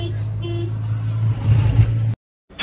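Cars crawl in a traffic jam near the Maha Kumbh, heard as a steady low vehicle rumble from inside a car that cuts off abruptly near the end.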